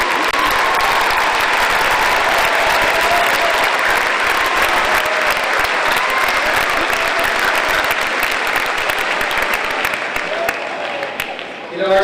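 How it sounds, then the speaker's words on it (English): An audience applauds school staff at a high school graduation ceremony, a long, loud, continuous round of clapping from a large crowd that tapers off near the end. "Let's have our staff in the back stand up real quick for a round of applause"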